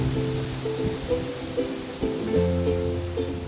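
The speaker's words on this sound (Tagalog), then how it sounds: "Wow! Ang hangin naman." Strong gusty wind buffets the microphone outdoors near a castle in Lisbon, Portugal, a steady broadband roar with tonal music-like lines running over it throughout.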